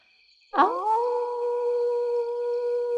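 Big wolf howling as a storytelling effect, a single long sustained howl that starts abruptly, rises, then holds steady and loud to the end.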